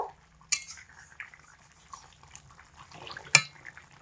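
A pot of fish and taro curry being stirred, with a few sharp spoon-on-metal clinks and soft scraping strokes at close range, quiet stretches between the knocks.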